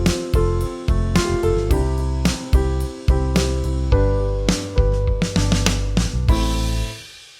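MIDI song ending in Logic Pro, the chords and beats gradually slowing in tempo: evenly struck musical hits spread wider apart toward the end, closing on a sustained final chord that fades out.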